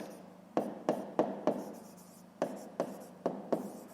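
Pen writing on paper while working a fifth-grade maths exercise, a quiet run of short, sharp tapping strokes and soft scratching in two clusters, close and alone.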